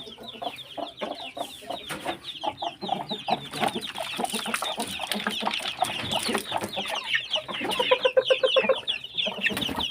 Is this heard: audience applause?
no